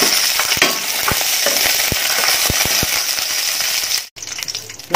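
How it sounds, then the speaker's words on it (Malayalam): Nuts frying in ghee in a pan for Kerala-style oats payasam, a steady close sizzle with scattered sharp pops and clicks of stirring against the pan. "അതിലോട്ട് കുറച്ച് നട്ട്സ് ആദ്യമിടും."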